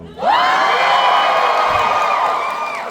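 A Dragon Con convention crowd watching a live Dungeons & Dragons game erupts in loud, sustained cheering and whooping, rising sharply and then holding as one big roar before easing off slightly at the end.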